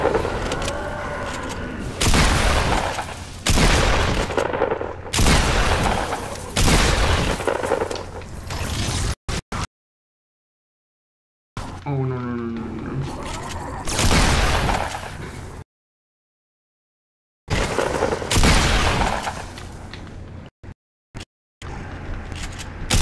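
Heavy booming blasts, as from shotguns firing at ice during a Fortnite live event, in repeated loud bursts with abrupt silent gaps and short separate hits toward the end.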